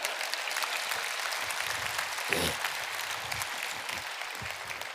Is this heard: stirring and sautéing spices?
no